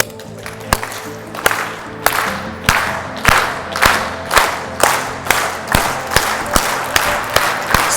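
A crowd performs a rhythmic unison clap, a dozen sharp group claps at a steady, gradually quickening beat, loud and close over a low murmur of voices.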